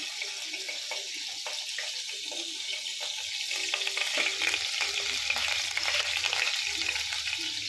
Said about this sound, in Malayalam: ഇഞ്ചി, വെളുത്തുള്ളി എല്ലാം കൂടെ തേച്ച് നമുക്ക് വറുക്കാം